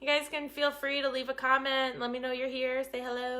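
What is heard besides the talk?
None of the usual background noises is heard.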